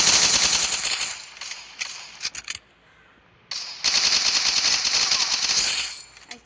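Rapid automatic gunfire from the Free Fire mobile shooter, two long sustained bursts of close, loud machine-gun fire separated by a short lull with a few scattered shots.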